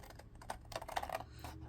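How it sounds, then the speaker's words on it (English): Paper being cut along a straight line while making a folded zipper belly band for a junk journal, heard as a quick run of soft, close crisp snips and crackles with no talk. "Let's go ahead and cut along this line."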